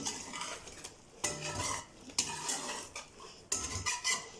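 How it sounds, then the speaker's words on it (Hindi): Soft, peeled tomatoes crushed with a spoon in a karahi pan over a flame for chicken karahi: bursts of wet squelching and metal scraping in three separate strokes, close and moderately loud, under a light sizzle. "टमाटरों को चमचे की मदद से इस तरह कुचलेंगे साथ साथ"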